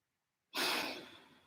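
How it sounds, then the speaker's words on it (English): One deep exhaled breath during a guided relaxation, a soft airy whoosh that starts abruptly after silence and slowly fades, close to the microphone. "Just take a couple of breaths."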